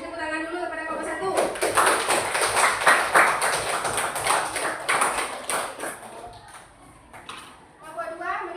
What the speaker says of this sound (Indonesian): Kita beri tepuk tangan dulu kepada kelompok satu.